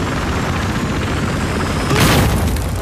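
A sabotage gadget stuck to a vehicle detonates in Battlefield Hardline, a loud broadband boom near the two-second mark over continuous rumbling game noise.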